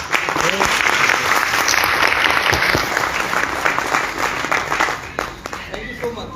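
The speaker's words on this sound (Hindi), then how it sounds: "एक जोरदार तालियां" Loud, dense applause from an audience at a motivational training program in Lucknow, Uttar Pradesh, sustained for several seconds and thinning out toward the end.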